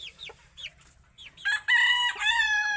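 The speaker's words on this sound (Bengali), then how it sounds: "আর এটা হয়েছে 15 দিনের মুরগির বাচ্চাই।" Chickens with 15-day-old chicks vocalizing close by, starting with soft, sparse clucks and chick peeps and then breaking into a loud, sustained crowing call that fills the last second.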